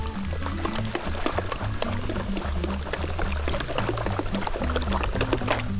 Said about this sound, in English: the pan is making a big circle and the dirt here is just sloshing around in the same position